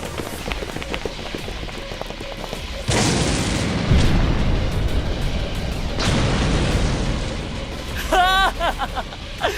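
A bomb explosion effect in a voice drama lands as a sudden heavy boom with roaring rumble, followed by a second blast-like surge, with a character's voice speaking near the end.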